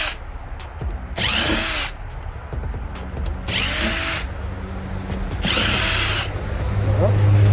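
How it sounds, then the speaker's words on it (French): A power drill unscrews the screws from an air conditioner being taken apart for recycling, whirring in three loud bursts of about a second each with handling noise and faint voices in between. "On va commencer à dévisser."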